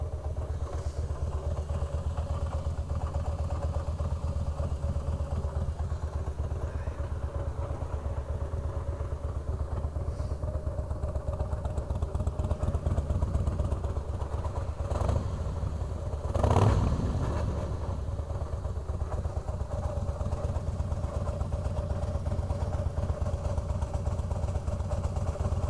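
Harley-Davidson motorcycle engine with a worn compensator bolt, idling with a steady low bottom-end rumble and faint mechanical rattle throughout, a brief louder knock near the end.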